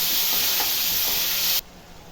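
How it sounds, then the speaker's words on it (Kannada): Tomato and turmeric hit frying onions in a pan, giving a loud, steady, close hiss and sizzle that cuts off abruptly about a second and a half in. "ಇವಾಗ ಅರ್ಶಿನ ಹಾಕ್ತಾ ಇದ್ದೀನಿ ಟೊಮೊಟೊ ಹಾಕ್ತಾಯಿದ್ದೀನಿ ಇದೊಂದು ಐದು ನಿಮಿಷ ಚೆನ್ನಾಗಿ ಫ್ರೈ ಆಗಬೇಕು"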